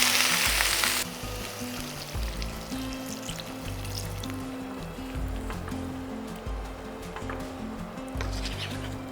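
Vegetables frying in a pan for a light vegetable curry hiss in a loud burst that quickly settles into a steady, softer sizzle with low bubbling underneath.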